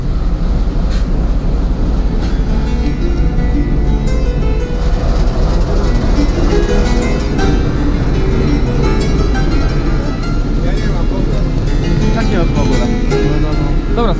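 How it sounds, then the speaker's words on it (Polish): Trans-Siberian train at a station, with dense, steady rumbling and clattering rail noise throughout and people speaking amid the din. "Oto nasz pociąg."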